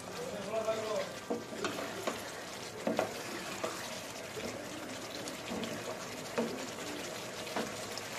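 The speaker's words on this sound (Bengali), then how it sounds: "দেখো আমার মাংস অলরেডি ফুটছে।" Chicken curry simmering in a pot once the lid comes off, a soft continuous bubbling sizzle with occasional stirring clinks and scrapes, close and moderately loud, with a voice briefly heard.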